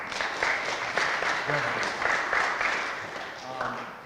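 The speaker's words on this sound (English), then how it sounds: "Give yourselves a round of applause." A graduation audience at a Methodist church claps in moderately loud, steady applause, with a few voices talking over the clapping.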